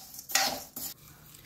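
Coriander seeds and dried red chillies dry roasting and being stirred in a pan for sambar podi, with dry scraping and clinking bursts of utensil against metal, two loud strokes separated by a brief pause.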